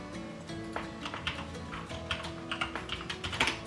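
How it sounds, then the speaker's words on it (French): Fast typing on a computer keyboard: a quick, uneven run of light clicks and taps, close and steady for several seconds with no talking, over a faint tonal background. "j'écris trop vite sur le clavier"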